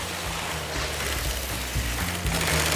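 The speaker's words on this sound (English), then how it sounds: "can you hear the sound of the sewing machine?" An industrial sewing machine stitching PVC panels gives a steady mechanical whir with a rapid rattling pulse, running continuously at close range, with no voices.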